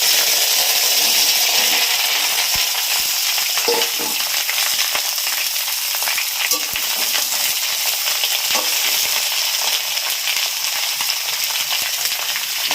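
Bottle gourd and potato pieces fry in a pan for a lau kankra dish, giving a steady, close, loud broadband sizzle throughout with occasional soft clicks and stirring scrapes, no talking.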